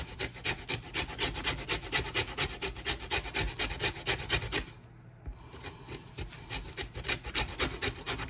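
Lemon zested by hand on a grater for homemade cough syrup, fast repeated scratchy rasping strokes close up, a brief pause midway before the scraping resumes.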